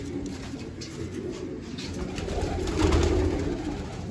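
Pigeons cooing in a loft, a soft low rolling coo repeating close by and swelling midway, with no talk over it.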